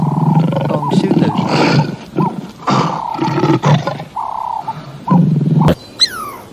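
A lion roars in one loud, drawn-out burst, followed by a few shorter roars and grunts, with a brief sharp crack and a higher bird-like call near the end.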